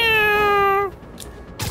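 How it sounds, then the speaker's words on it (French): A cat-like meow rings out in Spider-Man 2, a single drawn-out, bright tonal cry lasting nearly a second before cutting off, followed by quieter game ambience and a brief noisy burst. "On aurait dit un chat"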